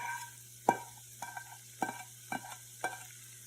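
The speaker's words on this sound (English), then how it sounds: "So now we're gonna go ahead and add our egg." An egg fries with rice, soy sauce and chicken in a pan, a faint low sizzle broken by a rhythmic series of spatula scrapes and taps against the pan, close and quiet.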